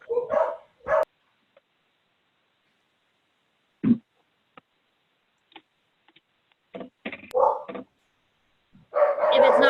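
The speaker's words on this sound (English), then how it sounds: "it's dogs barking" A dog barks in scattered bursts during a home video call, a few sharp barks near the start and more close, loud barking toward the end, with quiet gaps between.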